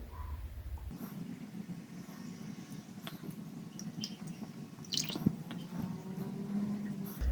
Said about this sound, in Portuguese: você pode colocar ele dentro d'água para diluir.